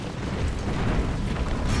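Battle in a war video game, with artillery explosions and gunfire merging into a loud, continuous rumbling roar that is dense with overlapping booms and never lets up, and no voices on top.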